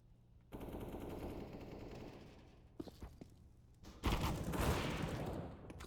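Automatic gunfire during a competitive Counter-Strike match on the Mirage map, with sustained rifle bursts, a lull broken by a few sharp single shots, then a louder renewed barrage close by.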